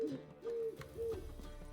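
A bird in the Witcher 3: Wild Hunt video game gives three soft, hollow hooting calls at an even pace over faint background ambience.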